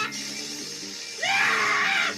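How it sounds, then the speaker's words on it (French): High-pitched screaming in an animated One Piece film scene breaks out after a short lead-in of background sound, a sustained shrill cry rising above the mix and holding to the end. "Arrêtez de crier."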